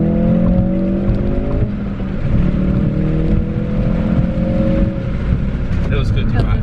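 A 2018 Ford Focus RS with a turbocharged all-wheel-drive engine and six-speed manual accelerating hard, a loud, rising engine drone that climbs through gears with shifts and steady road and wind roar.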